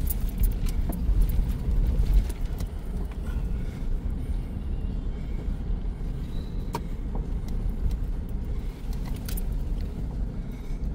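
A pickup truck rolls along a rough unpaved private road, its engine a low steady rumble under constant road noise, with light rattles and jangles from the cabin over the bumps.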